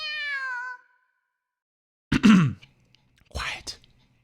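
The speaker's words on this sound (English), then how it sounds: "Kitten meows back in Aoi's stead." A kitten in a visual novel game gives a clear, high meow, followed after a pause by two quieter breathy, whispery vocal bursts, all close and set against silence.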